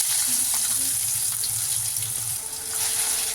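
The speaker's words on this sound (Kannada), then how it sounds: "ಈಗ ಇದನ್ನು ಆಯಿಲಲ್ಲಿ ಸ್ವಲ್ಪ ಚೆನ್ನಾಗಿ ಹಸಿ ವಾಸನೆ ಹೋಗಬೇಕು, ಆದರೂ ಘಮ ಬರಬೇಕು, ಆ ರೀತಿ ಫ್ರೈ ಮಾಡ್ಕೊಳ್ಳೋಣ" Ground masala paste for chithranna frying in hot oil, giving a steady close sizzle with faint stirring scrapes that dips briefly near the end before picking back up.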